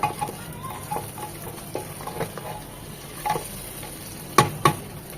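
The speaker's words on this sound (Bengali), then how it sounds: "এটা দিয়েও এক মিনিট একটু ভেজে নেব" Onion and tomato fry in ghee for moong dal, a soft steady sizzle broken by a series of spoon-against-pan scrapes and taps, two louder knocks near the end.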